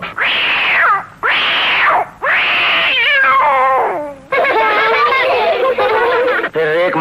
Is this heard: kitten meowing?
yes